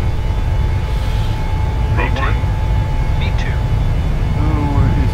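An Aer Lingus Boeing 737-600 climbs out after takeoff from Bergen, its engines a loud, steady low roar filling the cabin while voices talk over it.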